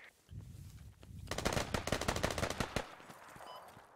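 Heavy automatic gunfire crackles in the Squad military shooter as a dense, loud burst of rapid shots that lasts a couple of seconds and then breaks off, with quieter surroundings before and after.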